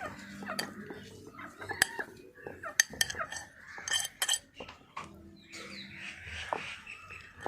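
Chopped onion, ginger and garlic are mixed in a home kitchen, with irregular clinks, taps and scrapes of utensils and dishes coming in short bursts at close range.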